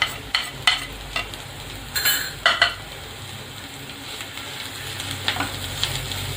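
Onions being stirred in a pan with salt, turmeric and chopped green chillies, giving a soft steady sizzle broken by several sharp scrapes and clinks of a spoon against the metal pan, with no talk.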